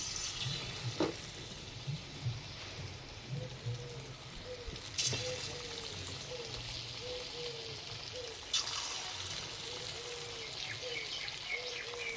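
Chicken 65 pieces dropped into hot oil in a wok, frying with a quiet, steady sizzle broken by soft bubbling pops and a few sharp clinks of utensils.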